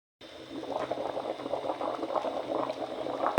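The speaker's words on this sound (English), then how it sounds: "Cooking pot over the fire to start cooking or boiling." A pot of bean stew bubbling and simmering steadily over a fire at close range, continuous gurgling boil with no voices.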